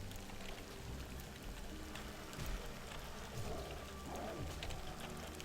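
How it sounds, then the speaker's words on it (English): Steady rain falls outside on a rainy February day, a soft continuous wash of drops and patter with no voices over it. "it's kind of rainy out"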